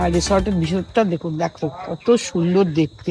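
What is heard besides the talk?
crickets chirping at night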